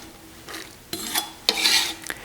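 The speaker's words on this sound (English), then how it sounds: "put the leeks in the water" Chopped leeks are dropped and swished into a bowl of water, giving a few soft splashes and wet rustles in short bursts, close and fairly quiet.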